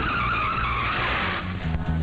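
A car skids to a sudden stop in a Tamil film scene, a loud sustained tire squeal and rushing road noise that fades slightly toward the end, alone with no voices.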